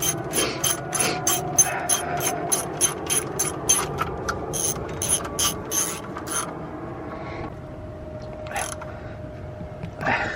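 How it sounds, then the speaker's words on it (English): Ratchet wrench tightening the idler pulley bolt on a 1999-2004 Mustang GT, a fast run of sharp clicks, then a few slower spaced clicks, close and clear over a low background hum. "you just put the bolt back in and you tighten it"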